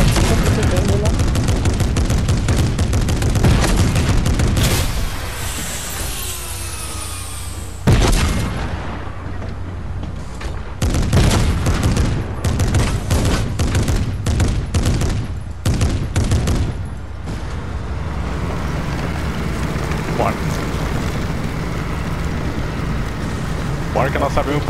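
Gunfire and explosions in the video game Fortnite, with rapid bursts of shots and booms over engine-like rumble, loud and dense throughout while players talk excitedly.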